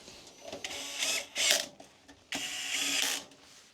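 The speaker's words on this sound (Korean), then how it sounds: "파워 나사도 맞는 나사로 교체하겠습니다" Screws are swapped on a computer power supply during a PC rebuild, giving several short bursts of ratcheting, scraping mechanical clicks separated by brief pauses, close and fairly quiet.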